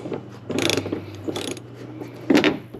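A socket wrench ratchets in a few short bursts of rapid clicking while WeatherTech mud flaps are fitted to a vehicle, close and fairly loud with quiet gaps between.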